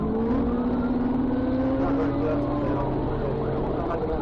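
A sports motorcycle accelerates away during a police chase, its engine note rising steadily in pitch under a continuous roar of traffic and sirens.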